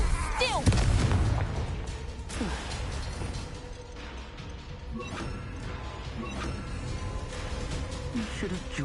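Explosive spells in Hogwarts Legacy burst with a loud crashing boom near the start, followed by scattered impacts, whooshes and rumbling debris over a steady background of combat noise.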